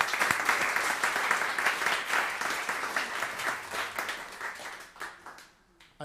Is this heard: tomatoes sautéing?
no